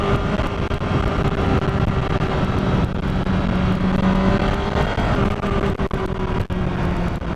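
Motorcycle of about 175 to 179 horsepower being ridden, its engine droning steadily and loudly throughout with a continuous rushing wind roar, heard from on board.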